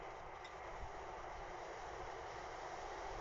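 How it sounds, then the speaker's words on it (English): A train passes nearby, a steady broad rumble and wash of rail noise holding at an even level throughout, with no voices over it. "excuse the train."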